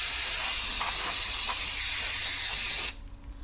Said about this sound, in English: just so you have enough room to put some brake cleaner on